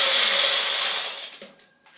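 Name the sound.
bullet blender blending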